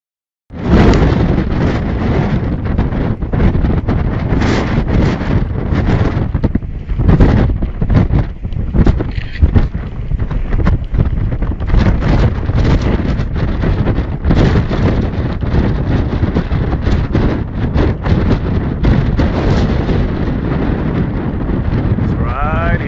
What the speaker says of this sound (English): The wind that starts at the beginning of a thunderstorm can be pretty amazing.